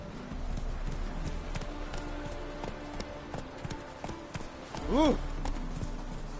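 Horse hooves in The Witcher 3 clopping steadily at a moderate pace amid ambient game sound, with a short exclamation from a player's voice partway through.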